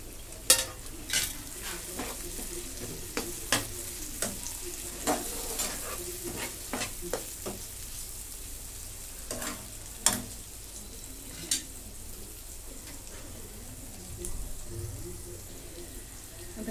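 Tomato and browned onion frying in a pan for paneer bhurji, with a steady close sizzle and regular sharp scraping taps of a spoon stirring throughout, no talk.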